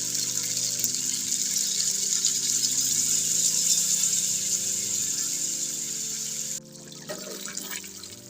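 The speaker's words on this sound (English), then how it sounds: "Add some water to make soup." Water gushes steadily into a cooking pot for chicken curry soup with a bright, rushing hiss, accompanied by a low rattling hum, then cuts off abruptly near the end.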